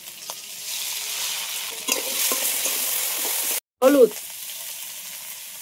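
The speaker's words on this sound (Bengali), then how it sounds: "এই যে মশলাটা ভালো করে কষিয়ে নিয়েছি" Spice paste of ginger and chilli with salt sizzles steadily as it is sautéed with fried potatoes for a fish curry, stirred close by with scraping clinks, then a brief cutout and a short spoken word.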